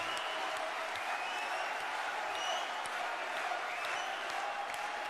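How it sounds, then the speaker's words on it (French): An audience at a political rally applauds a speaker, a dense, sustained clapping from a large crowd that stays even and fairly distant throughout, with no distinct voices. "Vous pouvez encore l'applaudir très fort, monsieur Antoine Lebrina, pour ce témoignage très franc"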